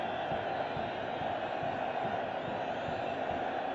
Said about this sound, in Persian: هوادارانی که تا این دقیقه فقط مشغول تشویق تیم